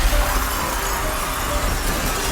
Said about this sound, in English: the glass is about to shatter.